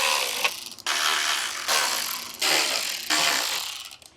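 A hand ratchet works loose 10mm bolts on a Toyota Tacoma front end, giving about five quick, rasping clicking bursts separated by short pauses, close and alone.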